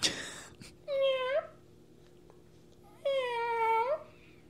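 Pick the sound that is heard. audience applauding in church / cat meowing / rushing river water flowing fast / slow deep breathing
cat meowing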